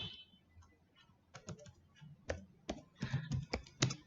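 Someone types on a computer keyboard close by, with irregular bursts of crisp key clicks that grow busier and louder toward the end.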